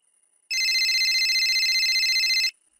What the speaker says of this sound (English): Phoning Tom's dad